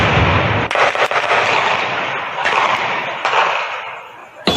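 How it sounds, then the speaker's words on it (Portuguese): Several sharp, loud gunshots ring out during a bank robbery over a noisy, crowded background, spaced irregularly across a few seconds. "É possível ouvir vários tiros."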